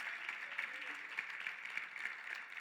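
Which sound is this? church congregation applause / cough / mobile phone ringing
church congregation applause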